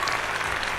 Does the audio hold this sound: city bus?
no